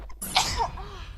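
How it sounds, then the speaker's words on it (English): A single sneeze during a live mobile game stream, a short breathy intake followed by an explosive burst, close and fairly loud. "I'm sneezing like a pig."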